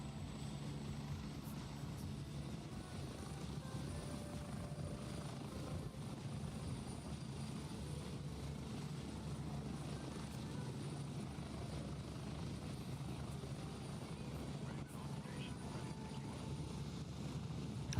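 A helicopter flies in the military shooter Gray Zone Warfare, its rotor and engine giving a steady, faint, continuous droning thrum that stays level throughout, with no voices.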